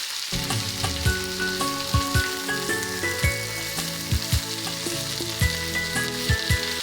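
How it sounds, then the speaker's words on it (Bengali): Potatoes fry in hot mustard oil in a pan, a loud continuous sizzle and crackle broken by repeated scraping stirs, with no voices. "ওগুলো হালকা ভাজা হয়ে গেলে আলু অ্যাড করে দেবো"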